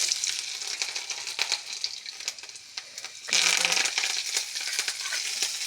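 Garlic hits hot oil along with mustard seeds, cumin and curry leaves for a cabbage gojju, bringing a close crackling sizzle with popping and a louder burst of frying partway through, with no one talking.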